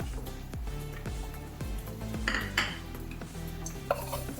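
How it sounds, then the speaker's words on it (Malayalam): Mustard, cumin and fenugreek seeds dry roast over low heat in a pan for homemade sambar powder, heard as repeated close metallic scrapes and clinks of stirring against the pan. "ചെറിയ തീയിലിട്ട് കടുക് ജീരകം ഉലുവ ഇത് മൂന്നും കൂടി വളർന്ന് വറുത്തെടുക്കാം"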